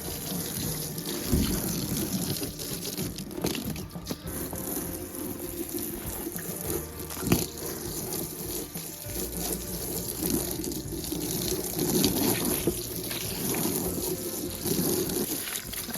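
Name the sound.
buckets being washed and refilled with warm water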